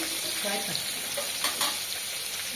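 Pieces of fish and a large fish head fry in hot oil in a pan, giving a constant close sizzle with a few brief spatters and scrapes, no voices.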